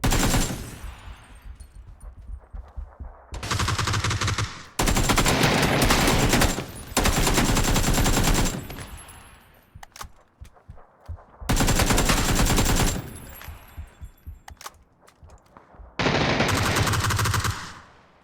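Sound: gunfire from a gun in the video game PUBG

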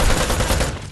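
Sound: AKM gunshots in a video game

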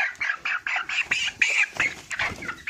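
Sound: chickens in a poultry farm

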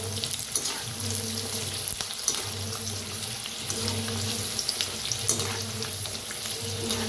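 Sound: garlic and curry leaves frying in oil

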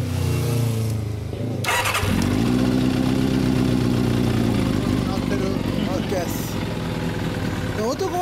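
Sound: Kawasaki ZRX400 motorcycle engine idling with KERKER exhaust

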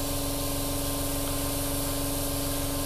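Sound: airbrush spraying green paint on a model plane

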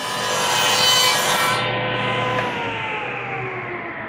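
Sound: compound miter box saw cutting wooden pool table pocket corners

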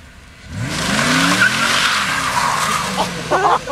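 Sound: Mustang SVT Cobra drifting, tires squealing

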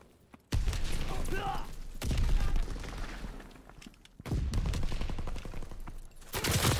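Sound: gunshots in a video game

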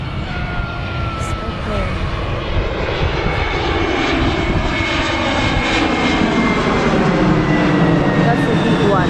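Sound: airplane flying overhead

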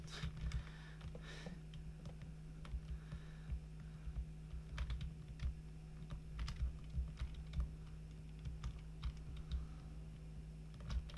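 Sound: computer keyboard typing while playing Roblox Energy Assault

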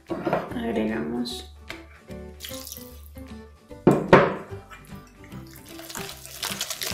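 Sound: water poured into pancake batter

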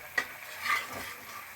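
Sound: tilapia fish added to sizzling pan

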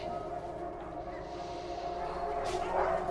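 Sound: dogs barking

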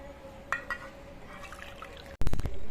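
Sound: milk being poured into a bowl of semolina, flour and sugar

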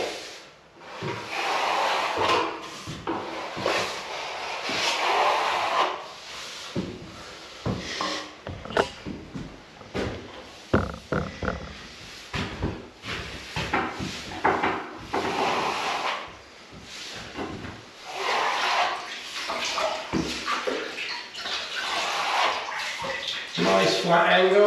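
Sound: trowel smoothing wet plaster

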